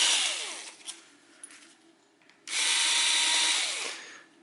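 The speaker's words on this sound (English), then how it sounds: "Hitachi drill driver, and I'll open first bolt" A Hitachi drill driver whirs in two close, loud bursts while unscrewing a bolt from a Ford Zetec engine oil pump, with a brief quieter pause between runs.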